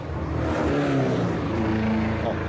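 Carbureted Ferrari Daytona engine on a race track, a continuous, moderately distant engine drone with shifting pitch as revs rise and fall.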